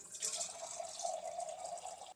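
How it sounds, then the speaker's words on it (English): Water running from a reverse osmosis filter faucet, a soft, steady trickling hiss heard close up for a couple of seconds. "I want you to look and see at all this water pressure we have."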